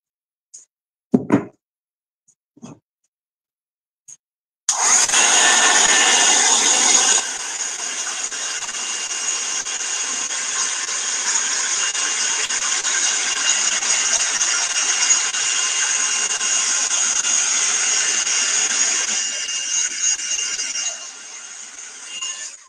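A warm air blower drying glaze on wall art switches on after a few small knocks, then runs as a loud, steady, close whooshing whir for about fifteen seconds before cutting off.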